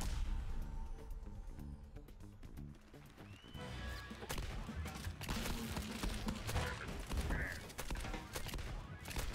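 Lava bullets fired in the video game The Crackpet Show, a dense stream of crackling shots and impacts over busy game sound effects and music.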